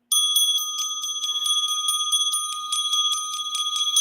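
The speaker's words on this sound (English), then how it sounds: "here's a heart chakra-based gong bell" A heart chakra gong bell rings with a sustained metallic tone and bright shimmering overtones, struck repeatedly in a quick pulsing pattern, close and loud, with no voices.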